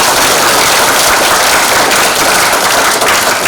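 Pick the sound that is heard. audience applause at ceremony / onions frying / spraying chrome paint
audience applause at ceremony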